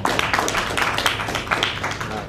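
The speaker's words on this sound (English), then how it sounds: "you can clap again" Audience clapping at an event about the 2027 Africa Cup of Nations: a loud, continuous wash of many hands clapping together, steady throughout with no pauses.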